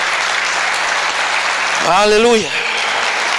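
A church congregation claps in a steady, loud wash of applause while one voice rises over it with a drawn-out exclamation midway through.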